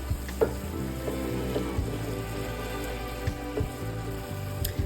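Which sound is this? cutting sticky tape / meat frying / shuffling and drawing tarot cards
meat frying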